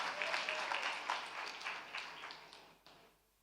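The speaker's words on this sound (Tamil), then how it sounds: "கைத்தட்டுங்க பிரதர்." Church congregation applauding during a Sunday service, a brief burst of scattered hand claps that fades out after about three seconds, fairly faint and heard without talk.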